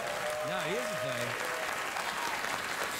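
Studio audience applause on a late-night talk show forms a broad, steady wash of clapping, with a voice briefly rising and falling over it early on.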